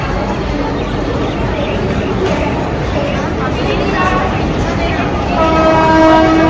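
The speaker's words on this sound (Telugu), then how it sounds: "సో ఇప్పుడైతే ఏదో ట్రైన్ అయితే వస్తుంది" A train rumbles into a busy Chennai station with a dense, loud rolling roar, and a long horn sounds near the end amid a crowded platform's chatter.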